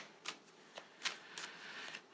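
Tarot cards are shuffled by hand in a quiet room, giving a few soft, separate riffles and flicks, faint and spaced out with no voices.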